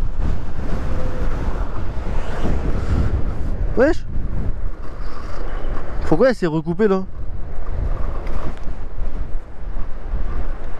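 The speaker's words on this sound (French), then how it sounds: "Ouah, sa mère le vent." Strong wind buffeting the microphone while riding a Dualtron Raptor II electric scooter, a heavy low rumble running the whole time beneath someone talking in French.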